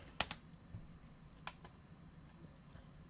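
Quiet, scattered keystrokes on a computer keyboard during a Blender 3D modeling session, a few soft distinct clicks spaced apart against faint room noise.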